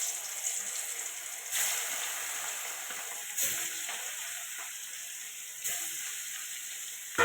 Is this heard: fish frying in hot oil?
yes